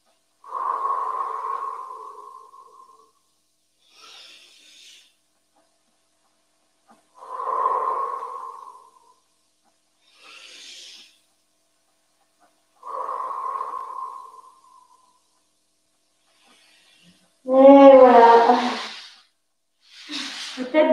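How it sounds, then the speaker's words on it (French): Slow, deep breaths during an ab workout stretch, several long audible inhales and exhales spaced evenly apart in a quiet room, followed by a voice speaking at the end. "faites des grandes respirations"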